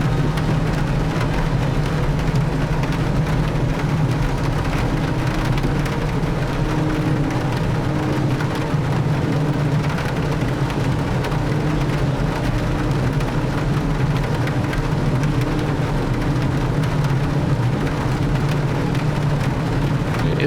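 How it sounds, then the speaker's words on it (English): Steady rain during a flight in a DHC-6 Twin Otter in Microsoft Flight Simulator 2024, a constant dense hiss over a low engine drone, unbroken throughout. "It's still raining"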